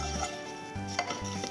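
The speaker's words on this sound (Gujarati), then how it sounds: "થોડી વાર માટે હલાવશું કેમ કે પેન ગરમ છે." A spoon stirs roasted panjeri in a hot pan just taken off the gas, giving a few short scraping and rattling strokes close by against a faint background hum.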